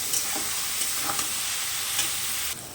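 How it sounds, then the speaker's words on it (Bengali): Green chillies frying in a hot pan, a dense steady sizzle with a few soft stirring knocks, close and loud, easing slightly near the end, no voices. "কাঁচা লঙ্কাটাকে আলাদা করে ভেজে নিচ্ছি।"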